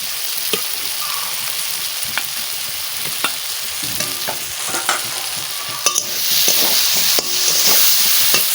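Potatoes fry in hot oil for a fish curry while a spoon stirs them, making a constant sizzle punctuated by sharp scraping clinks that grow louder toward the end.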